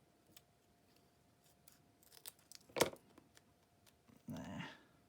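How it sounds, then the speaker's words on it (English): Scissors snip away excess paper from a specimen card booklet, a few quick faint cuts followed by a louder crisp snip and a brief rustle of paper, close by with no talk. "Now what I might do is just trim. It's got a fair bit of excess there."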